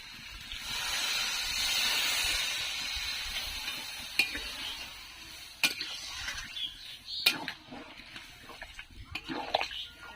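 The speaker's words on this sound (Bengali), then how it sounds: "আমার ইঁচড়টাকে কষানো হয়ে গেছে, এবার আমি জল ঢেলে দেবো।" Water is poured into sautéed jackfruit curry in a pan, giving a loud rushing hiss and sizzle that settles into stirring and scraping with scattered clinks and bubbling, alongside faint background voices.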